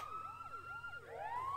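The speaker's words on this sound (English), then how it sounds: "This blaring siren is the only noise that will be in this entire lab" A blaring electronic alarm siren wails in a lab in the video game Pokémon Colosseum, its pitch sweeping up and down in repeated cycles over a steady tone, loud and continuous.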